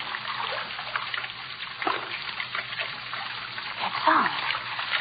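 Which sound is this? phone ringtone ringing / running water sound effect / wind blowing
running water sound effect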